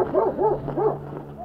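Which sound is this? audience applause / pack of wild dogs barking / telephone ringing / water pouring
pack of wild dogs barking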